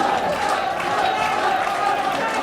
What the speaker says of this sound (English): Crowd is trying to get Joe back into this, chanting his name